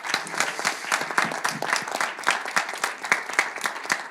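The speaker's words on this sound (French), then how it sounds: "on peut vous applaudir encore une fois." An audience at a talk on the political project of the commons claps steadily for a few seconds, a dense patter of many hands at even loudness.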